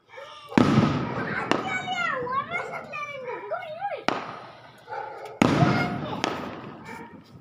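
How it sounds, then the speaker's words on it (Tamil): Diwali firecrackers burst nearby in loud sharp bangs, one after another with gaps between them, while voices talk and shout in between. "பார்த்தா வெடிச்சுக்கிட்டே இருக்காங்க"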